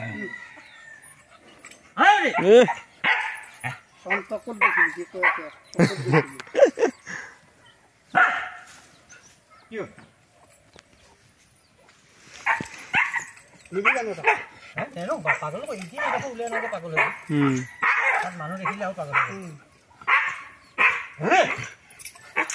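A dog barks in short, loud, repeated bursts close by at an outdoor gathering where buffalo are tied up before a fight, with people talking around it.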